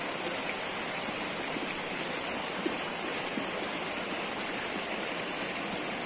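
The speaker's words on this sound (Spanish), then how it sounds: "Miren la diferencia de este río." Crystal-clear river water flowing, a constant broadband rush of moving water heard close and steady with no voices over it.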